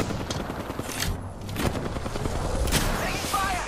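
Gunfire in Apex Legends arena combat, scattered shots and bursts at moderate distance, mixed with game effects and ambient noise throughout.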